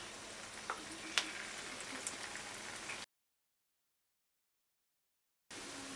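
Jackfruit fritters (mulka) sizzling in hot oil, a steady close crackle with a few sharp pops, then a gap of silence before the frying resumes.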